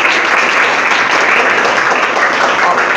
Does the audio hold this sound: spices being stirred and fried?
no